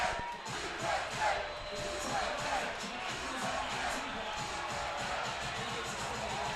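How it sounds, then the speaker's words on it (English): Crowd at Backyard Desert Ridge watching the USA vs Bosnia & Herzegovina World Cup match, a dense, steady roar of many voices with bursts of cheering and shouts, loud and continuous throughout. "As I give it a listen to the crowd here at Backyard Desert Ridge."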